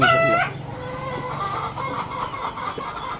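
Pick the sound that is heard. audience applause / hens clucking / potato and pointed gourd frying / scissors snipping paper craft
hens clucking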